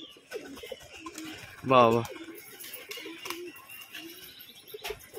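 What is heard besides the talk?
Bali powder pigeons cooing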